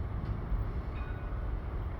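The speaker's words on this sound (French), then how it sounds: "c'est le premier tramway de Saint-Wagon qui est là. Et qui va rentrer dans le centre de maintenance." A five-car tram rolls into a maintenance centre, giving off a low, steady rumble with faint rail noise, heard from a distance and fairly quiet, with no voices.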